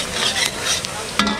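Onions frying in a pan, a steady close sizzle with quick scraping stirs of a spoon against the pan, the stirring strokes briefly louder over the continuous frying.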